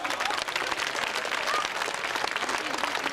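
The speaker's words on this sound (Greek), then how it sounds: "Αξίζει ένα ιδιαίτερο χειροκρότημα η κυρία Χρυσούλα" An audience at a Greek feast-day event for Saint Panteleimon applauds a woman, continuous dense clapping from a crowd with a few voices mixed in.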